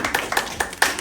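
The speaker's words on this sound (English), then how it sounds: "Let's clap it" Several people clap their hands in a short, uneven patter of sharp claps lasting about a second, close and fairly clear, with no talking.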